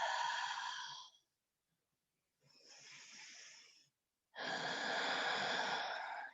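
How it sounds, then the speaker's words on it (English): Three slow breaths during a yoga flow, an exhale, an inhale, then another exhale, each a long airy rush separated by silence, close and fairly loud with no talking. "exhaling as you go to one side, inhaling them up, exhaling the other side"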